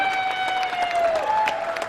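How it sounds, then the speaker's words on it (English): Studio audience applause for a guest on a live radio morning show: a brief, steady patter of clapping beneath a sustained, slightly wavering tone. "Give her a round of applause."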